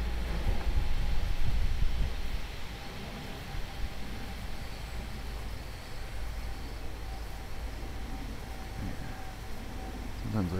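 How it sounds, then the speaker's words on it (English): Faint, steady wind hisses across the microphone for the whole stretch, a soft broadband rush slightly louder at the start. "And it's windy."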